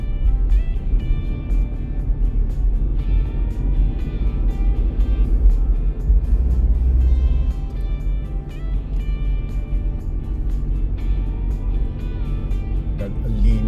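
Heavy traffic of many vehicles passing along the NLEX-SLEX Connector expressway, a continuous rumbling road roar with swells as cars go by, under occasional talk from people in the car.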